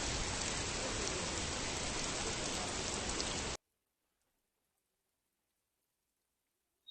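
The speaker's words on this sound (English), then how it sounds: "So it was raining there, so I have to take shelter under the shade." Steady, dense rain pours down in a botanical garden in Putrajaya, a loud continuous hiss that stops abruptly halfway through, leaving near silence.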